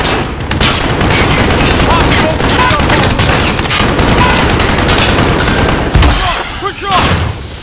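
Dense, continuous machine gun fire in Call of Duty Modern Warfare (2019), loud and close, with rapid overlapping bursts and booms filling the whole stretch; shouted voices are faintly mixed in.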